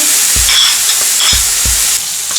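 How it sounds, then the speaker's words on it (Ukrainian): Sliced marinated eggplant frying in butter, a loud close hiss and sizzle broken by several dull thumps and scrapes of stirring in the pan. "підсмажимо нарізані замариновані баклажани"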